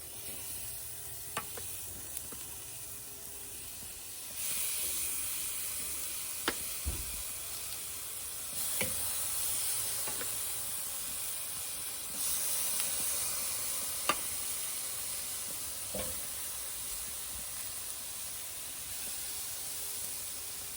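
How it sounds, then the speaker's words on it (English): Chicken thighs sizzle and hiss on a kettle grill fired up with a Vortex, a steady, quiet frying crackle that runs throughout, with occasional clicks and taps and no talking. "Gotta love the sizzle."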